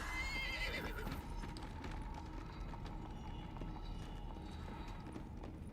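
Horse from the video game Deathbound, a neigh at the start followed by steady clip-clopping hooves throughout, faint and mixed with game ambience.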